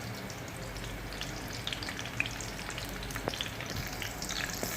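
Chopped garlic sizzling in hot oil in a pan for Ilocano-style arroz caldo, a steady soft crackle with a few sharper pops, fairly quiet and continuous with no talking.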